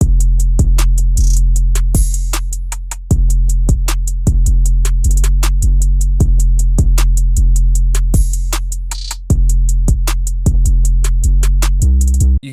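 A drum pattern built from the same MIDI part but triggered with different, higher-quality drum samples: punchy kicks on a steady groove with crisp hi-hats and snare hits, loud and continuous with no talking.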